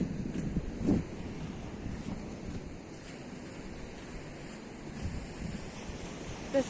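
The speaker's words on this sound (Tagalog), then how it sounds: "Nasa dagat kami guys, sobrang kalmado ng dagat ngayon" Calm sea with gentle waves washing steadily, soft wind rumble against the microphone throughout, no voices.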